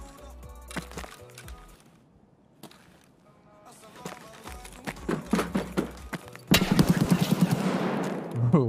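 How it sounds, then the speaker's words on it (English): Gunfire in the online shooter Escape From Tarkov: scattered single shots and short bursts, some distant, building to a loud, dense volley of near shots near the end, with faint game ambience throughout. "Where is he shooting from?"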